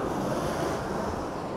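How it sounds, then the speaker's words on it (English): Sea waves wash in and out on a rocky shore as the tide rises, a continuous close roar of surf with strong wind buffeting the microphone, no voices. "See, the water's going out there."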